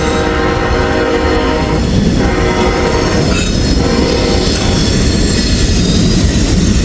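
Coke train cars roll by close and loud, steel wheels shrieking in sustained high squeals over a dense rumbling roar, with a brief horn-like tone and faint clickety-clack, no talking.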